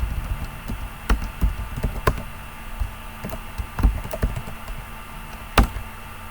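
Typing on a computer keyboard to enter an unzip command for a Redmine plugin inside a VirtualBox machine: scattered, irregular key clicks of varying loudness, with a sharper tap near the end and no talking.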